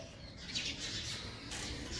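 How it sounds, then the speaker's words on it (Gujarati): Sparrows chirp outside in the morning, faint and somewhat distant, with a few short tweets over a soft background hiss. "ચકલીઓ સરસ મજાની ચીચી કરી રહી છે"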